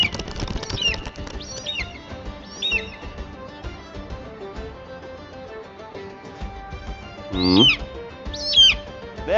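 Pigeons in a video game calling with short chirps and coos, with wing flaps scattered through, over a busy mixed game soundtrack; a couple of louder calls near the end.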